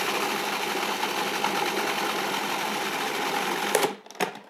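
A food processor blends raw marinara sauce, giving a loud, steady whirring motor drone that runs unbroken and then stops abruptly, followed by a short rattle.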